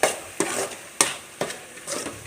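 Tomatoes sautéing down into a thick thokku for a brinjal and prawn dish, stirred in a pan with five sharp scrapes roughly half a second apart over a low, soft sizzle, close and with no voices.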